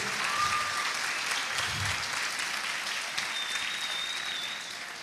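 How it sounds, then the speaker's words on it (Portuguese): A church congregation applauds loudly and steadily, many hands clapping together in a dense, sustained wash that fades slightly at the end. "Dê uma forte salva de palmas para Jesus"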